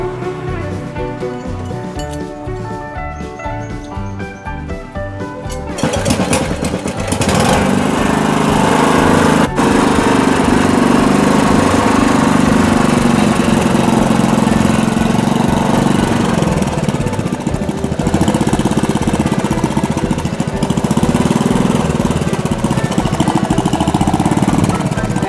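A Honda GX160 small engine with a leaking tank runs loudly and continuously at close range, a rough buzzing drone that picks up and steadies after a few seconds of lighter running.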